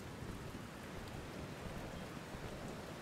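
Steady, dense rain pours down as an even hiss of broadband noise with no breaks, heard alone, in the video game Kingdom: New Lands.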